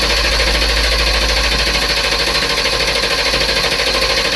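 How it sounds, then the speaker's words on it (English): The engine of a 2012 Ford van cranks steadily on the starter during a no-start diagnosis, a loud rhythmic churning that continues without catching throughout. "Go ahead and crank it."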